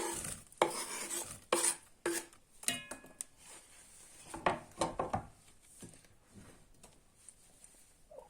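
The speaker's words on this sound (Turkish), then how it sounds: "Tenceremizin dibine 3-4 kaşık zeytinyağı ve doğramış olduğumuz soğanımızı ilave edelim." Chopped onion tipped into olive oil in a pot with sharp clinks and scrapes of a utensil against metal, irregular knocks and stirring, with a faint sizzle and no talking.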